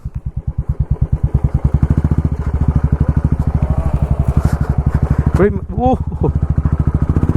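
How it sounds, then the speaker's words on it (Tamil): A motorcycle engine thumps in a steady, close, loud rhythm while the bike is ridden off-road. A voice calls out briefly near the end. "வண்டி செம்ம ஆஃப் ரோடிங் பண்ணுகிறேங்க நான்."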